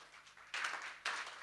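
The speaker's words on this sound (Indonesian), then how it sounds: "Tepuk tangan untuk Tuhan." A congregation claps during a Sunday church service, faint scattered clapping that breaks into two brief stronger bursts of applause about half a second apart.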